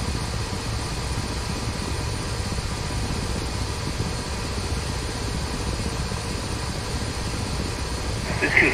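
Attack helicopter taxiing on the ground in the DCS Black Shark flight simulator training mission, a steady droning engine and rotor noise held at an even level throughout, with a brief louder bump at the very end.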